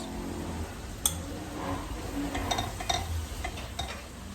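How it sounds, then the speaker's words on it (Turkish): Vegetables are sautéed with cumin, thyme, chili flakes and salt in a pan, giving a soft sizzle under repeated stirring scrapes and a few sharp clinks of a utensil against the pan. "Pul biber ve tuz ilave edip sebzeleri kavurmaya devam ediyoruz."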